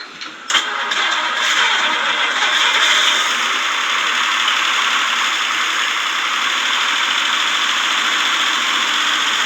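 A 1957 Ford Thunderbird V8 with original dual carburetors catches and settles into a loud, steady idle, a continuous even engine drone that carries on alone after a brief start.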